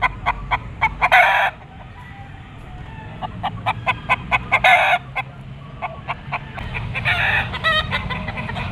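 Roosters and stags at a Pasig pet market, crowing in loud repeated bursts between rapid, close clucking and a steady crowd murmur, with someone talking quietly underneath.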